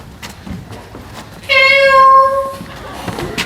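A single drawn-out, high mew, like a kitten calling, rises over quiet background noise for about a second.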